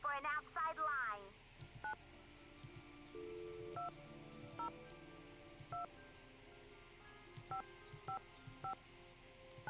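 A telephone keypad in a Nancy Drew game dials a number, short DTMF tones beeping one by one at irregular intervals over a quiet hum, after a brief warbling tone at the start.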